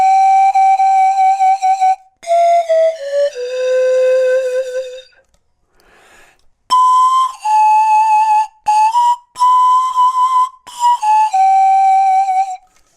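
A pan flute plays a slow run of clear, breathy sustained notes with gentle vibrato, close and fairly loud, with short pauses between phrases and one longer silence midway.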